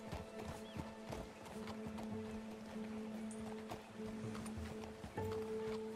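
Horse hooves clop steadily and softly on the ground in Red Dead Redemption 2 game audio, a quiet rhythmic patter over faint ambient background with no talking.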